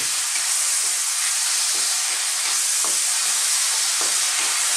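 Sardines and bottle gourd (upo) sauté in a pan with a steady, dense sizzle, while soft scraping stirs from a utensil recur through the hiss.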